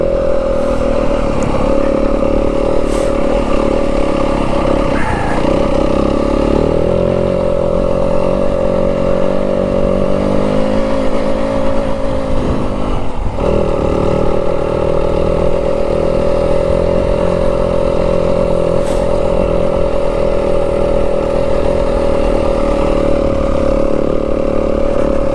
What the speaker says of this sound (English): See, I'm not the type of guy that likes to ring the bike out all the time.